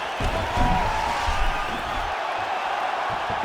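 Arena crowd in the UFC 5 fighting game roars in a steady, dense wash of cheering during a women's bout between Weili Zhang and Tatiana Suarez, loud and continuous throughout.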